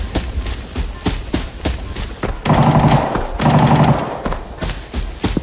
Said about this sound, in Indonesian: Gua tembak dia tadi